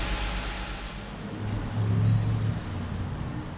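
A 2008 Dodge Charger engine idles steadily after a radiator replacement, a low continuous rumble close by that swells slightly midway, with no talk over it.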